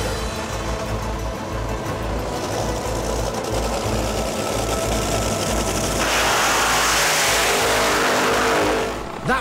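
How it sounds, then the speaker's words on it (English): An 8000 horsepower drag racer warming up its tyres at a drag strip, a loud continuous engine roar with a harsh buzzing edge that swells stronger past the midpoint and holds steady near the listener, no talk. "That was Rod just warming up his tyres"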